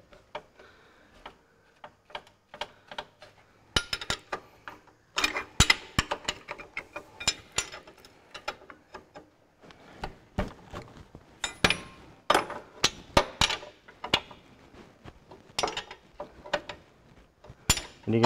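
A 1 1/16 spanner backing off nuts on a Ferguson TE20 tractor steering box, heard up close as irregular, fairly faint metallic clicks and clinks in short bursts with quiet gaps between.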